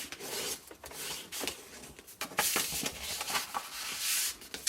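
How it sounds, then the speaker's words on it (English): A bone folder burnishes folds in a large fold-flat paper box, giving close, continuous rubbing and scraping strokes in uneven bursts without voices. "So I'm going to fold and burnish. Grab a bone folder."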